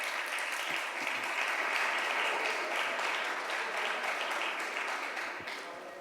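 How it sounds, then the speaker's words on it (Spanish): An auditorium audience at a lecture forum in Medellín claps to welcome a guest onto the stage, a dense, even wash of applause that holds steady and then begins to taper off at the end. "Lo podemos recibir con un aplauso"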